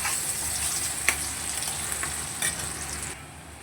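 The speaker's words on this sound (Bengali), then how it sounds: "আর এদিকে পেঁয়াজটাও ভাজা ভাজা হয়ে গেছে" Onions fry in a pan with a steady, close sizzle, broken by a couple of sharp spoon clinks and stirring sounds.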